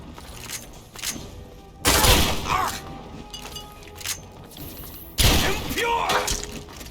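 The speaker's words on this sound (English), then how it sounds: "I'm switching to the shotgun." A shotgun fires in Fallout 3 during a fight in Calvert Manor, with two loud blasts a few seconds apart, each trailing into crackling debris and echo, and shouting voices between them.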